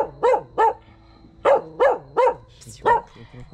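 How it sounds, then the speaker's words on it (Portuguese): A dog barks in a cemetery at night, giving six loud, close barks spaced in an irregular rhythm over a few seconds with quiet gaps between them. "O problema é que agora vai ficar saindo o latido no vídeo todo."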